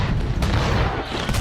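A naval battle explosion, a dense, loud, sustained roar of booming blasts and rumbling fire that fills the whole short stretch without a break, heard alone with no voices.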